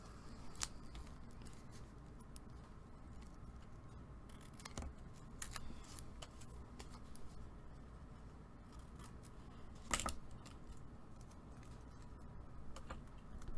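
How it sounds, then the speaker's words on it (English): Quiet snips of scissors cutting paper, a few sharp clicks scattered over a soft background hum, with no talking. "And let's take our scissors."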